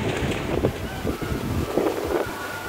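Strong storm wind in Karachi, Pakistan, gusting around 70 km/h, roars and buffets against the microphone in a continuous rough rumble with surging gusts.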